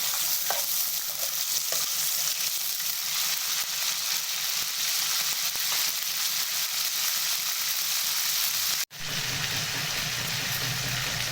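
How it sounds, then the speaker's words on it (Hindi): Meat sizzles hard in hot oil in a karahi for a chicken karahi, a dense steady frying hiss, then a sudden break and a louder, heavier splutter as more goes into the pan. "सबसे पहले हमने इसमें डाला ऑयल और फिर इसमें डाला हमने गोश्त।"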